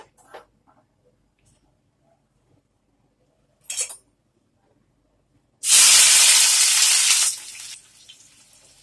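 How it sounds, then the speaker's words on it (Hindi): Chopped onions hit hot oil in a pan for an aloo dum masala, bursting into a loud sustained sizzle that fades after a couple of seconds, with faint clinks of a spoon stirring before it. "हम 1 मिनट कटे हुए प्याज को हल्का सा भून लेंगे, बस चलाते हुए"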